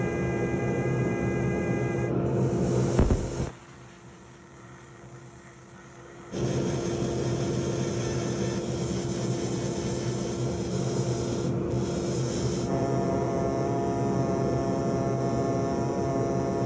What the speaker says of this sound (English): There's just a little bit more fine work to do with the air abrasives and grinders